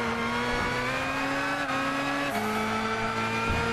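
A race car in Gran Turismo 6 is driven flat out with its tyres gripping, giving a loud, steady engine drone with a shift in pitch partway through and no talk over it.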